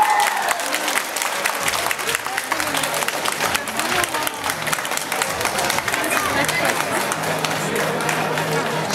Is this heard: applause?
yes